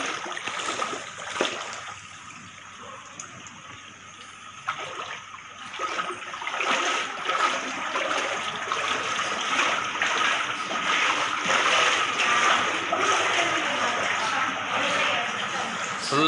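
Floodwater pours into a house after heavy rain in Rasipuram, a continuous rushing, splashing flow that swells louder over time, with people talking intermittently nearby.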